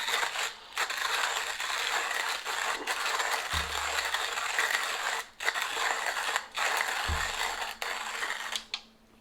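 Coffee beans crunch in a manual hand grinder, a dense, continuous gritty grinding up close that repeats in several strokes separated by short pauses.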